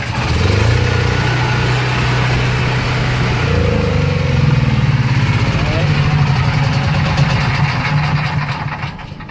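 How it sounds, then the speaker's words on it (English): A pull-start generator with its choke out fires up and settles into a loud, steady, close running drone. Its pitch shifts slightly partway through, and a voice talks over it. "Pull that choke out. Usually one pull fires up."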